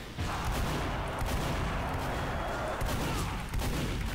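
Gunfire in Team Fortress 2: a continuous dense clatter of shots and explosive bursts, loud and close, sustained for several seconds with a muffled voice partly underneath.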